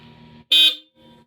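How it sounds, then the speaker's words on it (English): A new Hella Supertone horn fitted to a Volvo XC70 gives one short, loud, piercing blast, standing out sharply between quiet stretches of background hum. "Oh my god, that is a proper loud horn."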